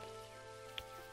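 Rain falls steadily in the farming video game Dinkum, a soft even patter under a constant background tone, with one faint drip or tap partway through.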